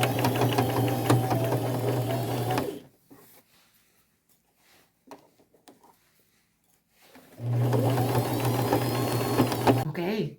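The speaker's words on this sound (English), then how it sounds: "the rest of the sewing on my bag, I'll do with this front plate off of my sewing machine" A sewing machine with its front plate removed whirs in two steady runs of fast stitching on a bag, separated by a quiet pause with a few faint clicks and handling sounds.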